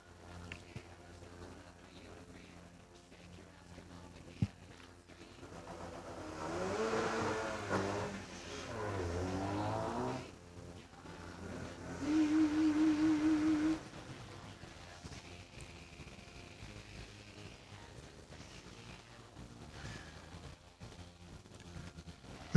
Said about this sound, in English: Lindsay Bear's Holden Commodore, you'll hear coming your way very shortly if you're at the top of the hill.